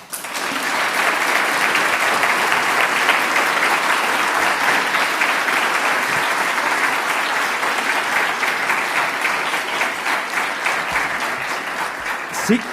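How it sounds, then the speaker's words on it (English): Large audience applauding musicians at an academic year inauguration ceremony, a loud, dense, sustained burst of clapping that continues steadily for over ten seconds before tapering slightly. "we should all give a big round of applause to our musicians"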